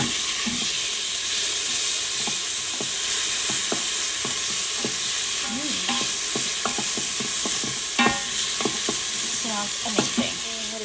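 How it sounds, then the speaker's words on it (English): Onion, garlic and ginger fry in olive oil in a pan, a steady close sizzle with scattered stirring scrapes and taps throughout. "Olive oil and onion and garlic and ginger. Let that go just a little bit."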